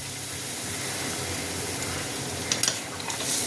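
Water poured into frying masala in a kadai for an ol-chingri (elephant foot yam and prawn) curry sets off a steady broadband sizzle and hiss, with a few sharp stirring scrapes near the end and no voices.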